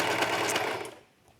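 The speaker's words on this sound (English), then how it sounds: "I'm not using a very big seam allowance here as I'm sewing" A sewing machine stitches the waistband of a workout skirt in one fast, continuous burst that stops abruptly, running close and clear with no talking.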